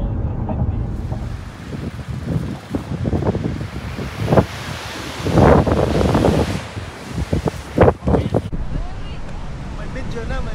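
Strong wind buffeting the microphone aboard a boat heading to Kitty Hawk, a loud rumbling roar with surging gusts, mixed with indistinct voices.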